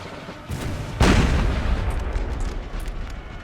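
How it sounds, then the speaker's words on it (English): Cannons fire in a Napoleon Total War battle, a deep booming blast landing sharply after a smaller thump, followed by a rumbling roar that lingers through the rest of the moment. "Fire the second gun, fire the third gun."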